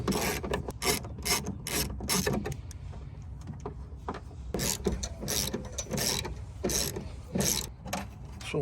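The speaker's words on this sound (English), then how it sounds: "After removing this bolt, then we're going to remove these 2 bolts." A ratchet wrench cranks out 10 mm bolts while replacing the power window motor on a 2003–2009 Hummer, giving steady bursts of close, rapid clicking strokes with brief pauses between them.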